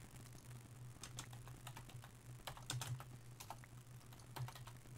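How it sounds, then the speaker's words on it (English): Steady keyboard typing as a chat message is entered on a computer during a Minecraft-style game session, with a continuous low electrical hum beneath the irregular clacking keystrokes. "then Michael, just type in the chat for him to camp"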